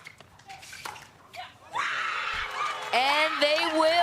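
At a pickleball match, a spectator shrieks loudly and keeps up sustained, high screaming after a stretch of lighter chatter and laughter in the crowd.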